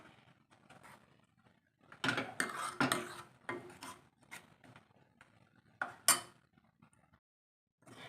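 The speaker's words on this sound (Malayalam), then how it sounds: "ഇപ്പം നമ്മൾ കറി ഇളക്കി കൊടുത്തോണ്ടേ ഇരിക്കണം, അല്ലെങ്കിൽ പിന്നെ തിളച്ചങ്ങ് പിരിഞ്ഞു പോവും." A spoon stirs dal tomato curry in a cooking pot, giving scattered scraping and clinking knocks against the pot in uneven bursts, close by, with quiet gaps between strokes and no talking.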